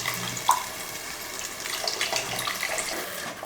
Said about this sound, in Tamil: புளி ஊற்றிட்டு கலந்துக்கலாம்.